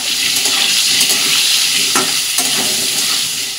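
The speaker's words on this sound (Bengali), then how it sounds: "চলো আলুটা ভেজে নিই।" Potatoes fry with chilli powder and turmeric in hot oil, a loud close sizzle under repeated stirring and scraping of the pan, with no talking.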